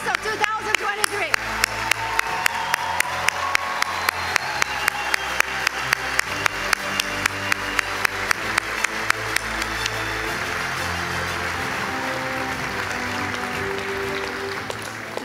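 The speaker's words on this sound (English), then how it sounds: "Please give a warm round of applause to the class of 2023" Applause at a university graduation ceremony honoring the class of 2023, a large crowd clapping steadily for about ten seconds with a regular rhythmic beat over music, then blending into a broad, sustained ovation.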